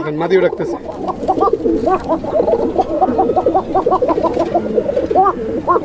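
Several pigeons coo in soft, throaty, repeating phrases close by, with people talking over the cooing throughout.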